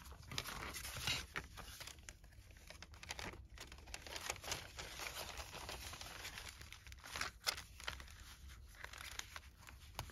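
A vintage paper envelope being folded for a junk journal, with soft close crinkles and rustles of paper continuing in irregular bursts and no one speaking.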